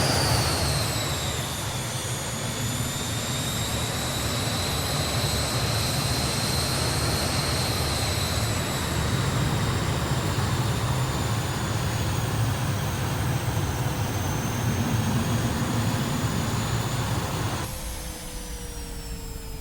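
Just Flight Hawk jet engine spooling up during startup in Microsoft Flight Simulator, a loud continuous roar with a high whine that slowly rises and settles, ending with a sudden change in tone.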